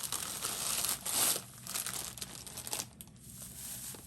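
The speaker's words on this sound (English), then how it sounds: "We're going to put some of this shredded paper from Dollar" Shredded paper from Dollar Tree crinkles and rustles close up as it is handled and tucked around a DIY sock gnome, in irregular crackling bursts that trail off near the end.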